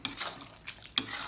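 A spoon stirring chicken curry in a pan after water has been added, giving a few quick scrapes and knocks against the metal, close and moderately loud, with a wet swishing between strokes.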